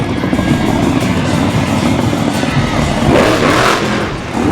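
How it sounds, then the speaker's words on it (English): A monster truck engine roars and revs hard, loud and continuous, with a rough, heavy growl that swells near the end. "This incredible truck has horsepower to burn."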